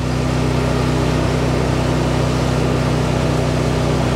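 A Mahindra Retriever 750 utility vehicle runs at full throttle with a loud, steady, droning engine note and a constant low hum, close up and unbroken, with no talking over it.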